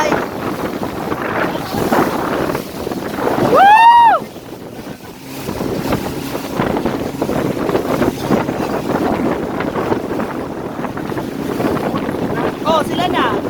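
Speed boat ride across open water, with a loud, continuous engine roar, rushing wind buffeting the microphone and splashing spray, plus a brief rising whistle-like tone partway through; voices shout and talk over the noise.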